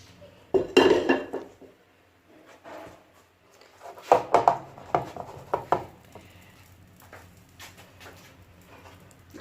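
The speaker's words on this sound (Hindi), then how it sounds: "तो अब हम इसको जो है ना डिश आउट करने लगे हैं।" Egg and potato curry is served from the pot into a dish with a spoon, giving scattered clinks and scrapes of metal against cookware in short bursts between quiet pauses.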